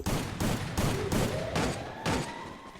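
Rapid bursts of gunfire from the game Free Fire crack out in a quick, evenly spaced volley, loud and close, about six shots over a few seconds, with a faint rising electronic tone underneath.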